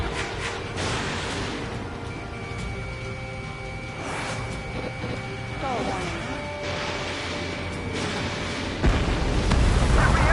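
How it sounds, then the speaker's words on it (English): Explosions and booming blasts from the Ace Combat 7 combat flight game, rolling through dense in-game noise of jets and missiles, with a heavier, louder burst near the end. "explosion inside!"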